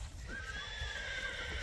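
A horse newly arrived from Russia whinnies in one sustained, wavering neigh lasting over a second, close and clear above a low rumbling background.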